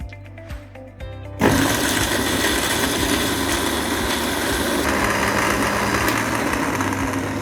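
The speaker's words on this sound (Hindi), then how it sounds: "हम भुने हुए चनों के साथ तमाम ड्राई स्पाइसेस को हम ग्राइंड करेंगे" An electric grinder whirs loudly and steadily after starting abruptly, grinding roasted chickpeas and dry spices, with a few soft clicks and handling knocks beforehand.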